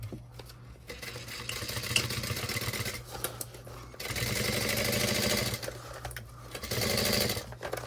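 A sewing machine stitches a messenger bag, its rapid mechanical whir running in several steady bursts separated by brief stops, close and clear.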